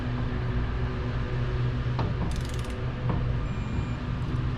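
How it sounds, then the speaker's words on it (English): Torque wrench tightening bolts in a cross pattern on a Honda engine being assembled, with a couple of sharp ratcheting clicks and a brief rattle standing out over a steady mechanical background hum, no talking. "And I'm gonna torque it to 18."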